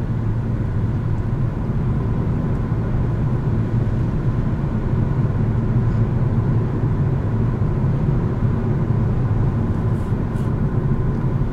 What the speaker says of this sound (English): Not bad wind noise, actually, for the segment.